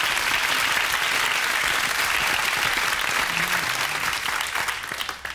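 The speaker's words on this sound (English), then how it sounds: "Round of applause for Jimmy" Loud, dense applause from a television quiz-show studio audience, steady throughout and tapering slightly near the end.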